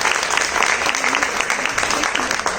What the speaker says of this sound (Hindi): जोरदार तालियां मैडम के लिए, बहुत शानदार।